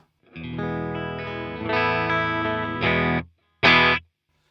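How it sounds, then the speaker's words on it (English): Electric guitar through a Fender Deluxe Reverb amp with its reverb off, played as a sustained chord passage followed by two short, separate stabs, loud, dry and alone. "Let's start off with the Fender Deluxe Reverb without reverb"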